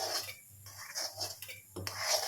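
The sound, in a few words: rubbing and stirring ABC malt mixture in a pan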